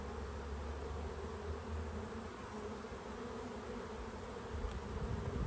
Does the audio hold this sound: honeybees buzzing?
yes